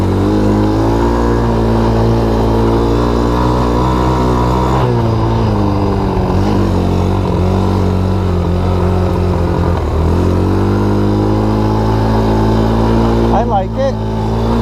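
Baja Wilderness 90 three-quarter-size minibike, converted from automatic to a three-speed semi-automatic, runs with a loud, steady close-up engine drone, its pitch dipping and rising slightly as the throttle changes, while a voice talks over it at times.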